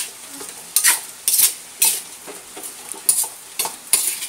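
String beans, okra and green chili being stirred in a pan, with a run of about eight sharp scraping strokes at an uneven rhythm over a soft sizzle, close and fairly loud, no voices.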